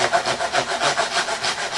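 A hand saw cuts a kerf into wood in short, steady rhythmic strokes, about eight quick rasping passes, close up and alone.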